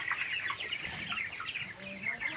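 Young broiler chickens, about 19 days old, in a poultry farm shed, a dense chorus of overlapping clucks and chirps close by with faint talk underneath.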